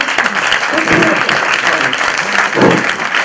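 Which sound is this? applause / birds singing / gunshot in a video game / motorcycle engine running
applause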